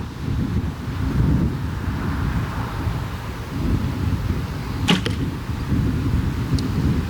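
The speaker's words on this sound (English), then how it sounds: "All right, so we'll shoot the arrow one more time" A hunting arrow loosed from a recurve bow outdoors, heard as a brief sharp snap and thwack near the five-second mark over a steady background of wind rumble.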